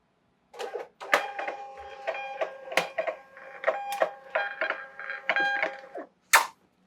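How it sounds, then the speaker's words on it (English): A small Nelco label printer prints shipping labels for an eBay shop, giving a run of whirring, buzzing feed bursts with brief pauses between them, steady and close, with no talking. "Print labels. My little Nelco printer holding up pretty well."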